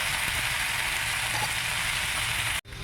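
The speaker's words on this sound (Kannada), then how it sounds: "ಈ ಟೊಮೊಟೊಕಾಯಿ ಹುರ್ಕೊಳ್ಳೋಕ್ಕೆ ಸ್ವಲ್ಪ ಟೈಮ್ ತೊಗೊಳುತ್ತೆ" Tomatoes frying in a pan for chutney give off a loud, even, continuous sizzle that holds steady, then cuts off abruptly near the end; no voices.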